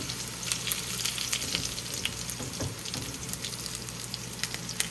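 Cumin, garlic and dried chillies fry in a pan of hot oil for a kale stir-fry, giving a steady, close sizzle with crackling pops throughout and no talking.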